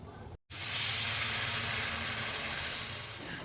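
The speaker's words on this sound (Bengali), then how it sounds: "তো এর মধ্যে এবার আমি জল ঢেলে দেবো।" Water poured into a hot pan holding flour, oregano and chili flakes for butter garlic chicken erupts into a loud, steady sizzle after a brief silent gap, slowly easing off.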